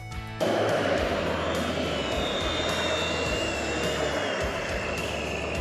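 An Ascend Aeronautics ASC 2600 drone, a Costco consumer quadcopter, starts abruptly and flies with a loud, steady high-pitched rotor whine and whir. The sound stays close and constant, with a faint voice under it.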